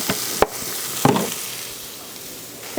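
Sweet potatoes and apples stirring in a skillet with a touch of olive oil, a soft steady sizzle broken by a few sharp scraping clinks of a utensil against the pan, close up.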